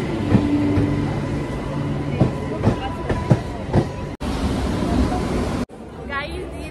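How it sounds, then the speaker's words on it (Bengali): Train arriving at a station, a loud rumbling approach with rhythmic clacks of wheels over rail joints, while people talk nearby and crowd noise mixes in. "চলে এসছে আমাদের ট্রেন।"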